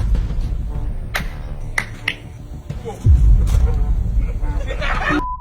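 Several sharp hand claps crack out irregularly during a hide-and-seek game, with people chattering and a rumbling background noise underneath.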